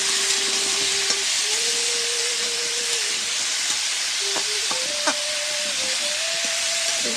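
Bottle gourd frying in oil in a pan for lau ghonto, a loud, steady sizzle and hiss close up, with thin whistling tones and a few faint clicks over it throughout.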